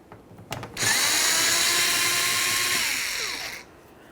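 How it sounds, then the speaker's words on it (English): A power drill or driver whirs steadily for about three seconds, close and loud, backing out the Phillips head screws that hold the high-mount third brake light assembly on a 1998-2011 Ford Ranger. "Along each side of the lamp assembly, you're going to find that you have a Phillips head screw. Remove each of those screws."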